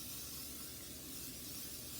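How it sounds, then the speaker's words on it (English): Olive oil cooking spray hisses steadily into a bowl, a continuous close, fairly quiet spray lasting the full couple of seconds with no talking. "I'm gonna take my second bowl and I'm gonna take my spray. I'm using olive oil spray that I have"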